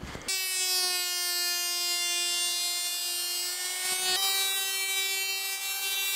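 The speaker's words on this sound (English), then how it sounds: "as I'm putting it through the planer, sometimes I'll change the direction of the board depending on the way that the grain is going." A thickness planer feeds walnut boards through, giving a loud, steady, high-pitched machine whine that starts abruptly and runs without a break. A brief dip and recovery comes partway through. No one speaks.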